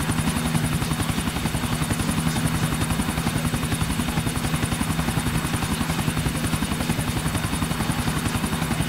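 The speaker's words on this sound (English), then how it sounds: "Chopper, stick to him, Nico" A helicopter in GTA IV hovers close by, its rotor chopping in a steady, loud, fast rhythm with a constant engine whine, alone without speech.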